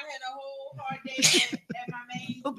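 One sharp, loud sneeze bursts out amid a person's ongoing speech, with talking continuing right before and after it.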